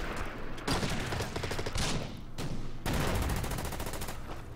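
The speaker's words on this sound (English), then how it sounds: "artillery will fire on this one" Artillery fire in the Order of Battle strategy game, set in the Bougainville campaign with US Marines, comes as loud rapid volleys of booming shots in several bursts separated by brief gaps, with no talking.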